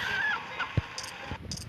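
A chicken in a video game gives a few short, honking clucks, scattered as brief bursts across a moment of game audio with no talking.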